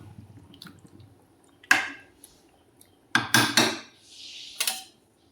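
Chicken is stirred and sautéed in a pot for chicken kosa, heard as a few separate loud scraping clatters of a spoon against metal with quiet gaps between them.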